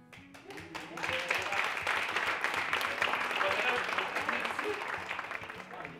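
An audience at a maple syrup contest applauds steadily for several seconds, a dense, even wash of clapping from the crowd.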